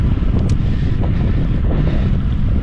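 Heavy wind buffeting rumbles loudly and constantly across the microphone, a thick low roar with no speech over it.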